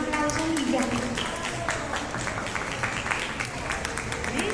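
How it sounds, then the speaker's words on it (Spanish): An audience claps at a Spanish-language book launch, with crisp individual hand claps standing out in an uneven, moderately loud round of applause while voices carry over it. "¿Qué tal si le regalamos a Dios un aplauso gigante?"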